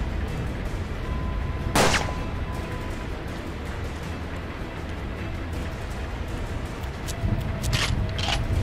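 A holy musket fires in the Western video game Hard West: one sharp, loud blast early on, followed by quieter mechanical clicks and clatter over a steady game background.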